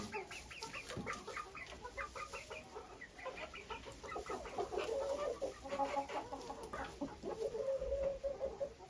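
A naked neck hen clucking and murmuring nearby while settling into straw to lay, a steady run of soft clucks and short calls with faint rustling in the background.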